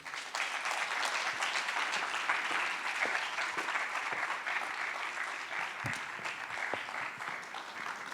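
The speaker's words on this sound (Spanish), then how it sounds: "Un aplauso para ellos, por favor." Steady applause from an audience honoring a group of film and theatre directors at an event in Bogotá, a dense, even clatter of many hands clapping without pause for about eight seconds.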